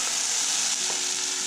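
Rice and mushrooms sizzle in a pan on a camp stove, a steady, close frying hiss with a few faint stirring scrapes, no voices.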